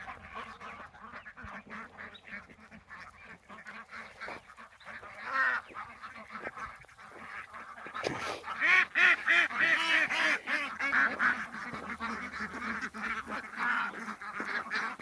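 A large flock of farmed ducks quacking and honking, a busy overlapping chorus that grows louder and denser partway through, close by with no speech.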